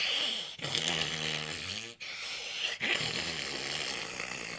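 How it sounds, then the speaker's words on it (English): Slow, rasping breaths with a throaty, snore-like rattle, heard close and alone, with brief pauses between each drawn-out breath. "His ragged breathing."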